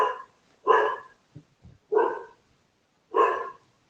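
Four loud, clear dog barks spaced about a second apart, with a couple of faint softer yips between them, heard alone with no talking.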